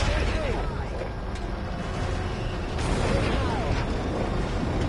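Rockets fired and exploding in a video game, a continuous rumbling blast-and-roar texture with whooshing launches, heavy booms layered throughout.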